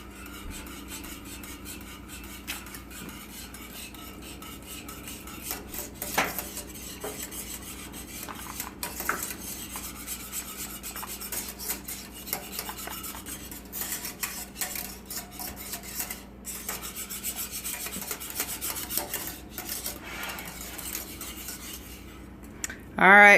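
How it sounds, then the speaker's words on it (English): A utensil stirs vanilla into goat milk custard in a pan off the heat, with steady scraping and rubbing against the metal and light clinks throughout, fairly quiet with no talking. "Now it's 2 teaspoons of vanilla, and we're just going to stir that in once it's off of the heat"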